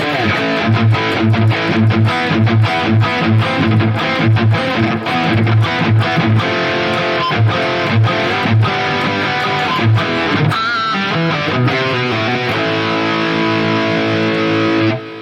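A heavily distorted high-gain electric guitar through a Mooer GE300 Diesel VH4 amp model plays loud chugging riffs with rhythmic palm-muted hits and ringing chords, continuous and up close.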